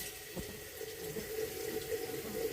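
Tap water runs into a pitcher in a home kitchen, a steady close splashing flow that holds throughout.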